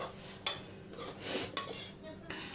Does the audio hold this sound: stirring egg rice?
yes